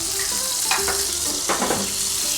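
Garlic and rosemary frying in olive oil over raised heat, a loud close steady sizzle with a few stirring clinks and scrapes, with no voices.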